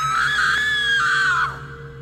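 A loud, sustained human scream used as a sound effect in a narrated horror story, one long shrill cry that wavers, bends downward and fades at the end.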